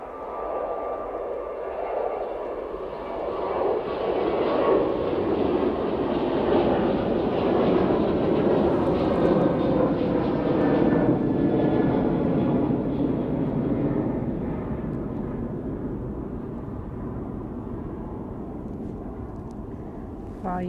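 A Ryanair jet at Manchester Airport roars steadily overhead, swelling to a broad rumbling peak and then slowly fading as it moves away, heard from outdoors with no clear talk.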